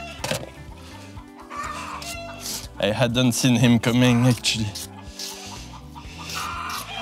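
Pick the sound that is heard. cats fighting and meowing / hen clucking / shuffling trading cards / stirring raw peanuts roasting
hen clucking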